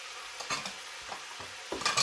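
Pumpkin and sweet potato chunks tumble into a hot pan for Filipino pinakbet, giving three or four quick stirring scrapes and soft sizzle bursts against a quiet frying background.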